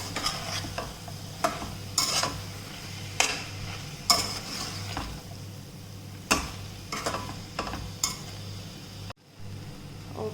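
Mixed vegetables are stirred in a single pot for millet biryani, a utensil scraping and clacking against the metal in irregular strokes over a soft sizzle, with a brief silent gap near the end; no talking.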